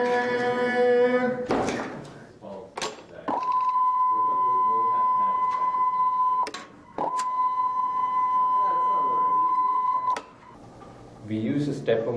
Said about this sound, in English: We use a stepper motor to drive the linear catalyst along a lead screw.